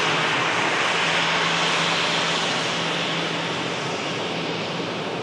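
A 36-year-old Jet2 Boeing 757-200 airliner takes off, its engines a loud, broad, sustained roar that holds steady and fades slightly toward the end, with no speech.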